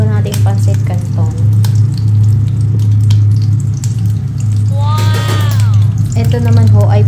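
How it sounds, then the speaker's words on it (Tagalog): Pancit canton noodles boiling in a pot on the stove give a steady bubbling hiss that runs throughout, over a low constant hum, while a person talks over it. "At kumukulo natin yung pancit canton."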